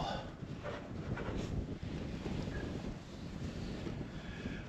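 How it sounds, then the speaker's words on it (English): Strong wind blowing outdoors on a cold night, a steady, loud rushing roar buffeting the microphone throughout with no speech. "The wind is blowing pretty good right now."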